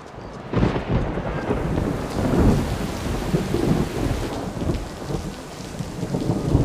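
Rain falls steadily outdoors while thunder rumbles repeatedly, some claps loud and near and others rolling in the distance beneath the constant patter.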